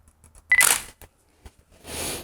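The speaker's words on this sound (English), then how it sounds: "take a first test shot" Camera shutter firing a test shot with a speedlight in a product photography setup: a crisp, close mechanical click-clack burst, then a brief softer whirring hiss.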